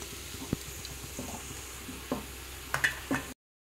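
Whole spices such as cloves, cinnamon and cardamom hitting hot Dalda and sunflower oil give a soft, steady sizzle with a few sharper pops and crackles toward the end, close and fairly quiet, with no voices.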